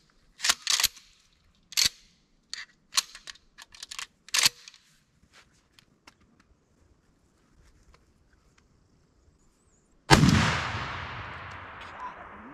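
A 12-gauge shotgun fires a 3-inch Winchester Double XX load of 1¾ oz number 5 shot at a target 30 yards away: one loud, close blast with a long, fading tail, after a stretch of faint clicks and handling noise.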